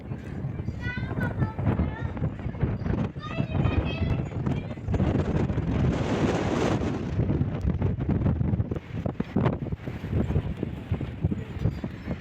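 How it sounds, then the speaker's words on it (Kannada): Strong, steady wind on top of Mandaragiri hill in Tumakuru buffets the microphone, a broad roaring rush running the whole time while people talk and call out over it. "ತುಂಬ ಗಾಳಿ ತುಂಬ ಇದೆ"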